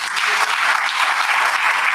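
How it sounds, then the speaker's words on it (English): An audience claps in a sustained round of applause at a poetry event, with dense, even clapping throughout and no voices over it. "A big round of applause for Philip."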